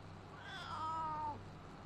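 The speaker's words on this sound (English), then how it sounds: "Is that him meowing?" A single faint, drawn-out cat meow, distant and quiet over a steady low hum.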